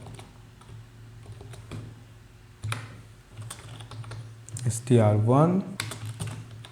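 Typing on a computer keyboard while writing C++ code, scattered close key clicks in short bursts, with a voice speaking over part of it.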